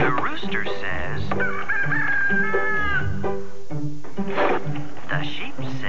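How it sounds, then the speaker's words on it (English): A rooster crows in a couple of long, strained calls amid a busy mix of other animal-like honks and voices, loud and close, inside a television commercial break during 1996 football coverage. "The rooster says."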